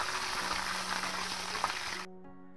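Curry leaves fry in hot oil for tamarind rice (pulihora), giving a loud, steady sizzle that cuts off sharply near the end, leaving only a low hum.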